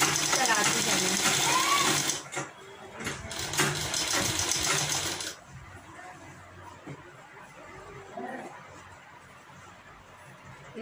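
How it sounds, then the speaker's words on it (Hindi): Sewing machine stitching along the folded edge of a kurti collar, a loud steady mechanical whir for about five seconds before stopping, leaving quieter background noise and faint movement. "इसके किनारे पर सिलाई को चलाते जाना है।"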